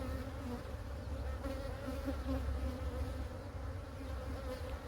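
Honey bees buzz in an open hive box during an inspection, a continuous close, droning hum with shifting tones as individual bees pass near, steady and fairly quiet throughout.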